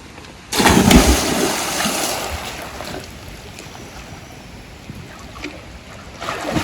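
Water surging and splashing in a village well in the Konkan countryside after a person jumps in, a loud burst followed by a long fading wash of turbulent water.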